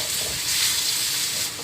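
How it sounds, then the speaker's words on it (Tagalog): Garlic sautéing in a hot pan for fresh lumpia filling, a steady close frying sizzle with soft crackle running throughout, no talk. "Pulahin lang po natin ang ating bawang."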